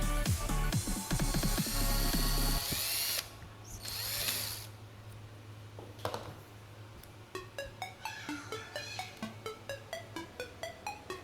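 A power drill whines loudly for a few seconds while drilling holes in plastic pipe, pauses, then bursts briefly twice more, followed by a rapid series of ratcheting clicks.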